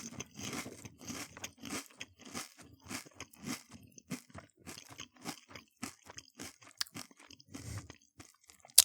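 Crunching and chewing of Kellogg's cereal soaked in milk, close and steady, with rapid repeated bites and crackly crunches filling the whole stretch, no talking.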